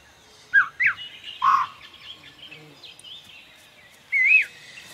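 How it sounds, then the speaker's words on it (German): Birds in the Spore video game give a handful of short, high chirps and warbles, scattered across a quiet background with a longer call near the end, while a voice murmurs faintly. "Das sind die Vögelchen"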